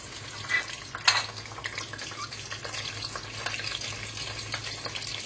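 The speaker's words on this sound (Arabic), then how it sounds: "هنزل بيهم على الزيت هحمرهم" Sliced onions frying in oil in a pot, a steady soft sizzle with a couple of sharper clatters near the start, and no voices.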